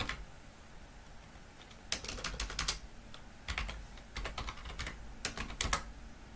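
Keystrokes on a computer keyboard as a minikube terminal command is entered, in several quick bursts of crisp clicks separated by short pauses, close and fairly quiet over faint background hiss.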